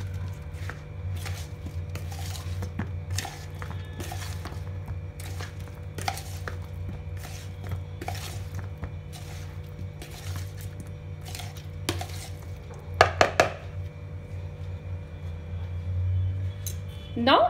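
A salad gently mixed with sweet tamarind chutney in a bowl gives soft, scattered utensil clinks and scrapes over a steady low hum, with a brief cluster of sharper clicks near the end.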